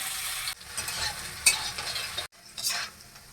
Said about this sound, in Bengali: আলুগুলো ভেজে নিতে হবে।